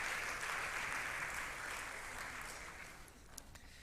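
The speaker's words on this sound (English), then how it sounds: "That's applause, yeah." A small congregation at a Shabbat service applauds with steady, soft clapping that fades gradually toward the end.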